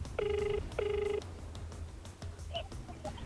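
A phone line rings back twice in quick, even bursts while a number is being called, followed by faint clicks and low background hum.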